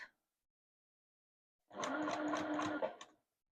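A sewing machine stitches a quilted pumpkin mug rug, a short close burst of whirring motor and needle chatter lasting about a second and a half after a quiet pause, with no talking.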